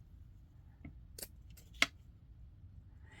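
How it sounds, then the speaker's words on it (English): Close, quiet cuts from fabric scissors, a few separate crisp snips spaced irregularly, the sharpest near the middle, over a soft low room hum with no talking. "You're going to get a cleaner cut if you use the fabric scissors."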